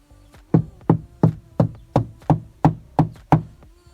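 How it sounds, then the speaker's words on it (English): Nine evenly spaced, close knocks on an exterior wall of plywood sheathing over studs, each a sharp thud with a short decay. "you tap on the wall. Did you hear how that sound changed? It changed from a hollow to a solid."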